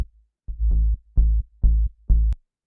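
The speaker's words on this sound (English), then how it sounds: "so this is the sub" A sub bass synth preset in a remix plays four deep, round sustained notes in an even rhythm, each with a soft attack and clean cutoff, isolated and fairly loud.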